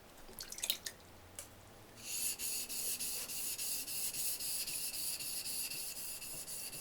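A Shun Pro Yanagiba knife rubbed on a 400 grit whetstone, a close, steady rhythmic scraping of repeated strokes that starts after a couple of seconds of faint taps and continues to the end.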